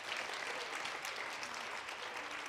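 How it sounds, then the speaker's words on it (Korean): Steady applause from an audience at a school graduation ceremony, a dense, even wash of many hands clapping at moderate level for the full stretch with no voices over it. "박수로 맞아주세요."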